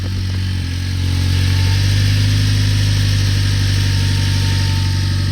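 A car engine idles steadily right after a wheel repair, a loud, close, even mechanical drone that holds for several seconds with no talk over it.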